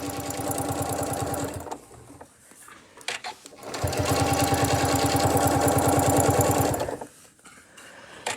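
A sewing machine stitches add-on binding onto a quilt edge in two loud, steady, fast runs separated by a brief pause with light handling sounds.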